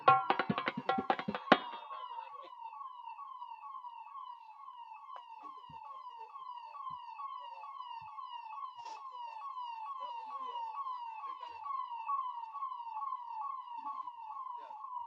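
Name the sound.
ambulance siren passing through crowded street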